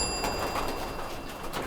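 Pigeons coo softly in a Cairo rooftop loft holding about fifty birds, their low burbling calls overlapping against a steady background hum.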